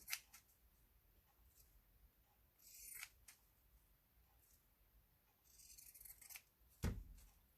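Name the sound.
pinking shears cutting paper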